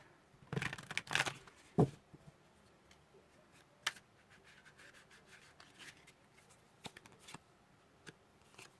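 Tarot cards being shuffled by hand, a few quick riffling bursts near the start followed by sparse soft slides and taps of cards, close and quiet.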